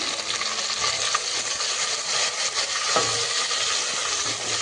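Ginger, garlic and coriander hit hot oil in a pan of masala for a rohu fish curry, giving a loud, steady, close sizzle with light stirring scrapes and no talk over it.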